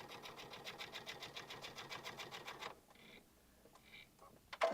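A sewing machine runs a basting seam on a messenger bag, a steady rapid mechanical stitching rhythm for a few seconds before it stops, leaving faint handling noises and a soft clunk.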